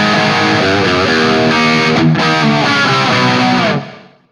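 Electric guitar played through a Friedman Runt 50 amp with no boost, using a high-output Friedman pickup, light reverb and a touch of delay; a distorted chord-and-riff passage runs loud and steady, then rings out at the end.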